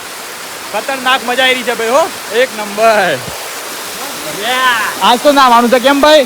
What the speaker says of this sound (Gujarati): ધોધ પણ મારા ભાઈ હેવી ધોધ થઈ રહ્યું છે.